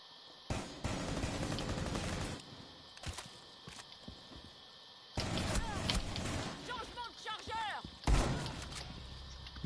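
Gunfire in a PS4 shooter game: loud bursts of automatic fire in separate volleys with sharp single shots between, mixed with game effects and close action sounds.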